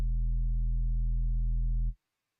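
Clean synth bass tone, a square-sine wave pitched two octaves down with no effects, held as one steady, loud, deep note for about two seconds before cutting off into silence.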